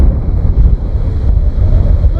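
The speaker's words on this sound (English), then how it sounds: "So the wind has in fact continued and it keeps on getting stronger." Strong wind buffets the microphone on an open beach in Denmark, a loud, continuous roar with gusty rises and falls, with surf faintly mixed underneath.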